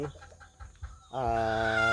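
A hen gives a few soft clucks, then a louder, drawn-out nasal cackle close by.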